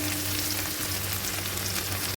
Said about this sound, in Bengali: আর একটু পেঁয়াজটাকে একটু ডিপ ফ্রাই করে নিচ্ছি।